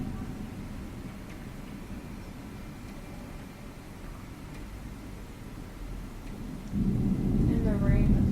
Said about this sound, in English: A very massive thunderstorm.